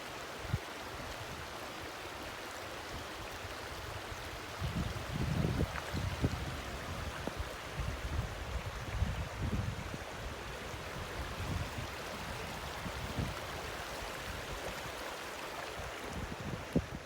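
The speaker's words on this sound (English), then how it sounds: "Let's take a look at that creek a little closer." Creek water flows steadily through a quiet wooded park, a continuous broadband rush and trickle with a few louder splashes in the middle, close by and with no voices.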